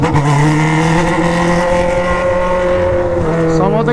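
Honda Hornet motorcycle exhaust revving hard, a loud close engine note held high with strong harmonic tones before dropping and rising again near the end.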